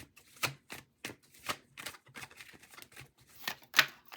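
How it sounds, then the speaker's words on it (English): Tarot cards from a Morgan-Greer deck are drawn and handled, giving a series of sharp, close papery snaps and flicks in an uneven rhythm, with no talking. "So I want to pull 3 cards."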